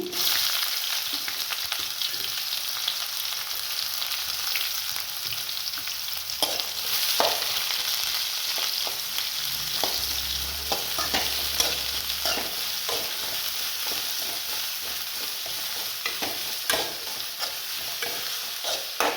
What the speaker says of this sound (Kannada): ಒಂಚೂರು ಫ್ರೈ ಆಗಿ ಮೀಡಿಯಮ್ ಫ್ಲೇಮಲ್ಲೇ ಇಟ್ಕೊಳ್ಳಿ. ಈಗ ಈರುಳ್ಳಿ ಹಾಕ್ಕೊತೀನಿ.